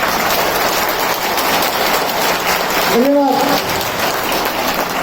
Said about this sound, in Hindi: एक बार तालियों से अपना परिचय दें।